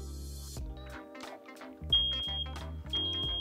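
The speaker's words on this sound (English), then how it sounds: "Now you'll hear the alarm and the light will start blinking." A repeating electronic alarm pattern plays from a Sonos smart speaker, pulsing low tones with a thin high beep over them, steady and fairly loud.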